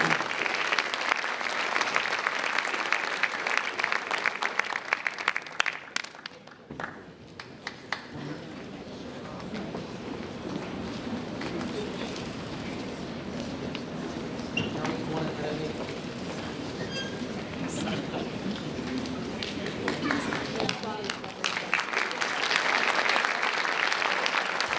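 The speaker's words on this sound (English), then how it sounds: "A nice round of applause for the newest members of the National Science Honor Society." At a high school honor society induction, a crowd applauds steadily for about 25 seconds. The clapping is loud at the start, dips briefly, carries on as a dense sustained patter, and swells again near the end.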